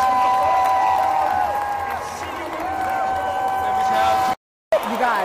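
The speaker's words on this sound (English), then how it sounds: "You guys, the crowd is crazy." A packed basketball arena crowd roars and cheers in a steady loud wash, with whoops on top and a whistle-like tone running along, plus a brief dropout near the end.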